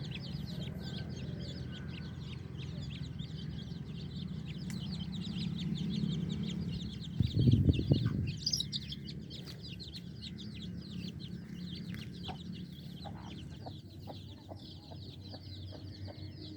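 Young chicks on a poultry farm floor keep up a dense, steady chorus of high peeping, with a brief low rumble or scuffle midway through.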